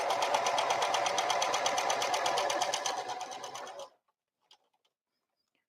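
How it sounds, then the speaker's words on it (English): A sewing machine stitches bandana strips together for a tote bag, a fast, steady, fairly quiet mechanical whir lasting about four seconds before it stops, leaving near silence with a couple of faint clicks. "now I'm going to stitch right here"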